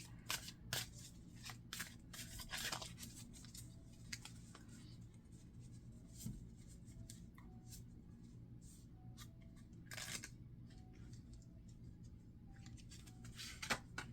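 Soft, close papery riffling and snapping of cards comes in short bursts, with quiet pauses and faint rustles between them.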